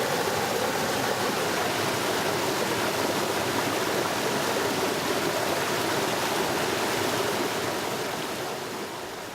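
A small waterfall pours over rocks into a stream in a steady, even rush of water, close and continuous, with no voices, easing slightly toward the end.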